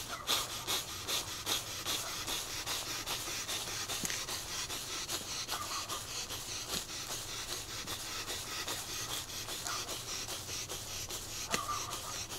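Strelnikova breathing exercise performed as a long series of sharp, forceful nasal inhalations, heard as steady rhythmic sniffs repeating close to the microphone throughout, with no talking.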